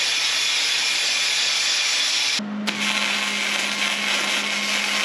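An angle grinder grinds paint off a steel workbench frame, a loud steady high-pitched whine that holds throughout, dips for a moment, then resumes under load with no talking.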